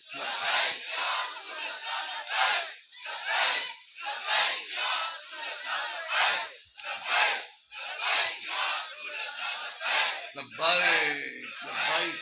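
A crowd at a religious gathering chants "Labbaik" in repeated bursts, loud rhythmic shouts of many voices rising and falling in regular waves, with a brief gasping cry near the end.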